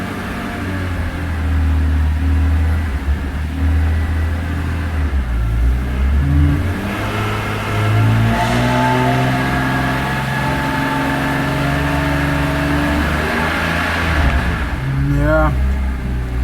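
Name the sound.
BMW E46 M3 engine stuttering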